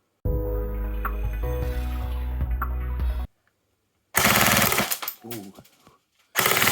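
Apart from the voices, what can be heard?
ASG CZ 805 BREN A1 airsoft gun firing full auto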